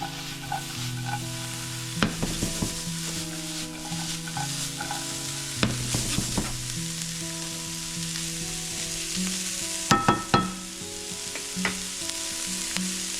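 Garlic fries in a pan at medium heat, a steady close sizzle broken by a few sharp stirring scrapes and clatters, set against soft background music with no talking.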